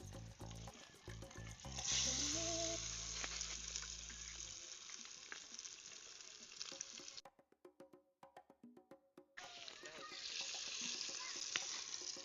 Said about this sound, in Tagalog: kini lang atong prituhan kay gamiton man ang kaha